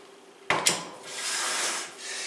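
A stand mixer bowl is detached, giving two quick clunks of metal knocking against the mount, followed by a soft scraping rub as the bowl is lifted away.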